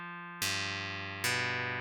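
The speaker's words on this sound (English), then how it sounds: "pitch signal is used to compute by how much the signal is delayed by, and that gives you that pitched tone" A pitched tone from a Mela delay effect in pitch mode, where the delay time tracks the pitch: a steady, bright harmonic drone that jumps to new notes twice, sounding alone with no talk.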